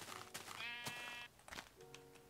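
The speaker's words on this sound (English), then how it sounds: "maybe it was just an innocent little sheep." Sheep bleating in the video game Minecraft, one short wavering bleat standing out from other faint game sounds, quiet and close.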